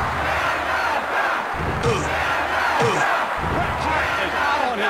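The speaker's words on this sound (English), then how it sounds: "The crowd goes crazy." A wrestling arena crowd in WWF Warzone roars loudly and continuously, a dense, steady wall of cheering with occasional slams and shouts rising out of it.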